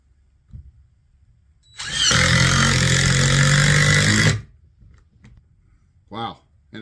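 A DeWalt brushed impact driver without a setting selector drives a screw in one loud, close burst of rattling hammering lasting about two and a half seconds, framed by quiet handling noises and brief talk afterward.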